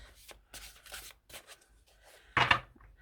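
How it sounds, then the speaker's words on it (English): Tarot and oracle cards are shuffled by hand in short bursts of riffling and sliding, close up and quiet, with pauses between, ending on a louder riffle. "Let me shuffle a little bit."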